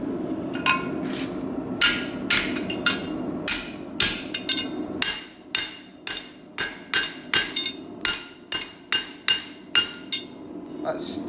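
A hammer strikes a chisel again and again, chiseling and splitting in sharp metallic blows. The blows start irregular under some talk, then settle into a steady, evenly spaced series of loud, close hits.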